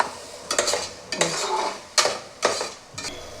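Ground tomato being sautéed in a pan, with bursts of sizzling and sharp spatula scrapes and clatters against the pan at irregular intervals, close up and without talk.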